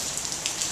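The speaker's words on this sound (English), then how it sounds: "Cause it's raining again." Rain falls with a brief, soft patter of scattered drops pattering on surfaces, faint and steady over less than a second.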